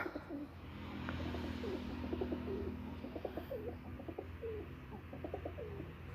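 Teddy pigeons coo in a loft: a run of short, rhythmic, throaty calls repeating close by over a low steady background hum, with occasional faint chirps.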